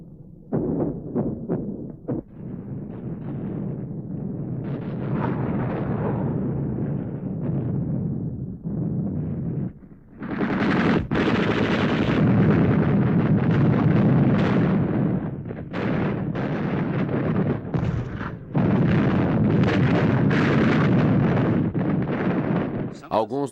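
Heavy gunfire and explosions from the WWII Battle of Berlin: loud, dense bursts of shots and booming blasts, dropping briefly to a rumble before surging again, with possible voices mixed into the din.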